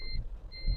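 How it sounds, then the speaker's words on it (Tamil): Two short electronic beeps from the turn indicator of a Force Traveller van, evenly spaced, thin and fairly quiet over a low road rumble inside the cabin. "அது இண்டிகேட்டரோட பீப்புங்க"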